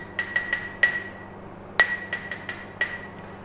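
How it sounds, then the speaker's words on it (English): A glass is tapped, giving a series of bright, ringing clinks with a clear pitched tone; about ten strikes come in uneven clusters, close and fairly quiet, with no talk. "I use my ear to hear the sound of glass"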